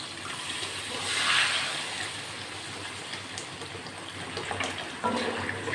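Water poured into a pan of spiced pointed gourd cooking in oil, a continuous splashing gush with a brief louder swell, close by.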